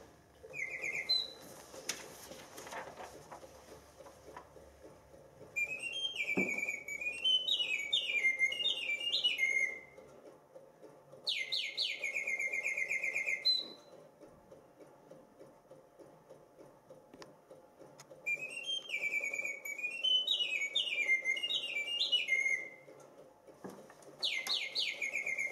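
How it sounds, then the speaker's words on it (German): A mechanical singing-bird music box with bellows makes two birds warble in turn: bright trilling whistles and chirps in several bursts of a few seconds each, separated by short quiet gaps with faint mechanical clicking beneath. "Ganz besonders nett anzuschauen ist diese Singvogelmusikdose, die also auch rein mechanisch betrieben wird."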